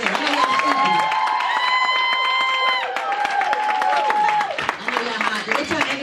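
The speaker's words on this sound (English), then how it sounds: "y'all clap a little harder than that" A crowd at a Total Life Changes training event claps steadily with scattered cheers and shouts over the top, the applause thinning out toward the end.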